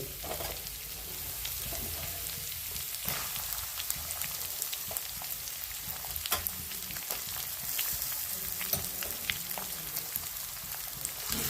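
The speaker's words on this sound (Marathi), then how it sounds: "कांदा चांगला लाल होत द्यायचा आहे" Chopped onion crackles and sizzles in hot oil with mustard seeds for dal khichdi, a steady, moderately soft frying hiss with scattered pops and no voices.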